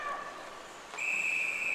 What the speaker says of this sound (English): And we're going to get a whistle here.